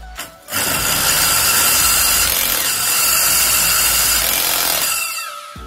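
A rotary hammer bores into a wall to make holes for electrical sockets, giving a loud, steady grinding drill noise that runs continuously for several seconds after a brief start, then eases off at the end.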